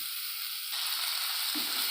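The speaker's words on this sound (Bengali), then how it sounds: "মশলাগুলো ভাজা হয়ে গেছে, এবার আমি আলুটা দিয়ে দেবো।" Oil hissing softly in a pan of fried spices, then a sudden louder sizzle as potatoes go in and keep crackling steadily, close up with no talk.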